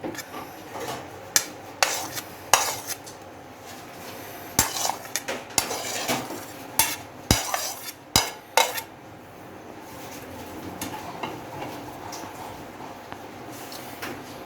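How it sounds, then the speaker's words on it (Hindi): Spoon clinking and scraping in a bowl as chopped banana, diced mango and colourful jelly are stirred together, a run of sharp clinks and taps early on, then quieter rubbing toward the end, close and without talk. "अब हम इनको चम्मच की मदद से अच्छी तरह मिक्स कर लेंगे"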